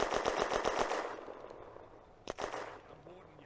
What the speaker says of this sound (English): another tank further back is also firing machine guns